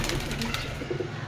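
Pigeons coo close by in a loft, soft low throaty calls repeating under a steady background murmur.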